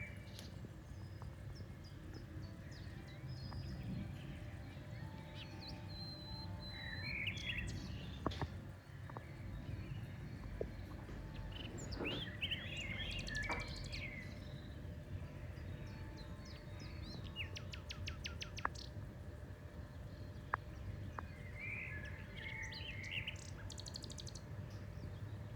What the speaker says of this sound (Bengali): তো আমার বাড়ির সামনে এই সময় কত রকমের পাখি ডাকে দেখুন।